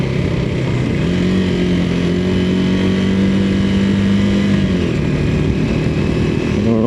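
Motorcycle engine on an off-road trail ride in a state reserve, running steadily and close up throughout, with a sustained droning hum that shifts pitch slightly as the throttle changes, no talk over it.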